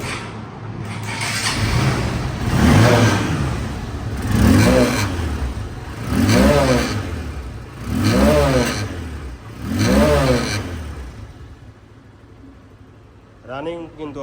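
A Honda CB Trigger motorcycle engine idles close by and revs five times in regular surges, each rising and falling, with a brief voice at the end.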